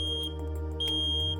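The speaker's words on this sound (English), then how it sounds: "It should beep to indicate it is working." Two short electronic beeps from an old smoke detector's test button sound, close and fairly quiet, over a steady low hum.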